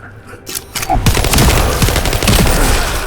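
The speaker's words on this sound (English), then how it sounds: "Fireworks." Fireworks bursting in The First Descendant video game, a loud rapid crackling barrage of pops that starts abruptly after a quiet moment and keeps going densely to the end.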